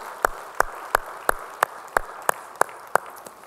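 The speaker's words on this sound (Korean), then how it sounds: "우리 찬양하실 주님께 영광의 박수 올리겠습니다" A church congregation at a Sunday worship service claps together in steady unison, about nine sharp, evenly spaced claps in a moderately paced rhythm with a quiet room behind them.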